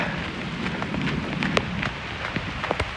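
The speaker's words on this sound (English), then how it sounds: "It started raining out of nowhere." Rain falling on an outdoor basketball court at a Florida resort, a steady hiss of drops with scattered sharper splashes and taps close by, with no talking.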